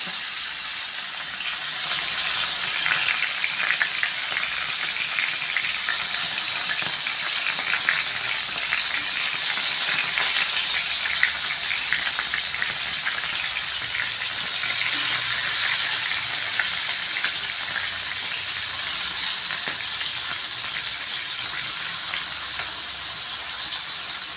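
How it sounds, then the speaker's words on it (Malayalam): Pearl spot fish frying in hot coconut oil, a loud continuous sizzle with bubbling crackle and occasional stirring clatter, close and steady with no talk. "വെളിച്ചെണ്ണ ചൂടായതിനു ശേഷം മീൻ ഇതിലേക്ക് വയ്ക്കുക."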